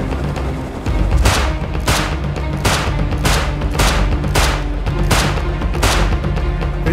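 Shots from a gun in the video game Rust ring out loud and close in a steady, evenly spaced rhythm, about ten blasts in a row over a constant rumbling background.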